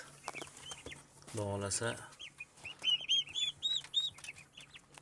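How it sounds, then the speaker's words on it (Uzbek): Young turkey chicks peep and chirp in high, rapid calls at a poultry farm, close by, while a person speaks briefly over them. "Mana shu kurka jo'jalarimiz"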